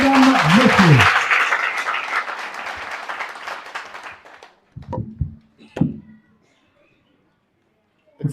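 An assembly applauds a coordinator at a Pentecost celebration, dense clapping over a brief voice at the start that dies away within a few seconds, followed by scattered knocks and thumps.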